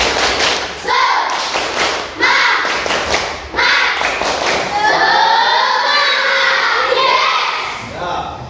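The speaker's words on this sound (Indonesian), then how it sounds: "Yo, tepuk semangat." A primary school class performs a clapping chant routine, rhythmic bursts of claps alternating with children's chanted voices, then a stretch of shouting and clapping together near the end.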